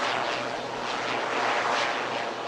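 Military jet aircraft performing an aerial display at the Aero India air show, a loud continuous roar of engine noise sustained throughout with a broad rushing hiss and no talking.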